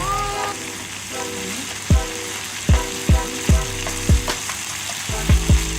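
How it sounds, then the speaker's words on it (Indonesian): Ground spice paste sizzling and frying in a hot pan, with steady crackle and a series of sharp scraping stirs from a utensil at irregular intervals, close and alone without talk. "Bumbu halusnya kita tumis sampai matang lalu dikasih daun pandan"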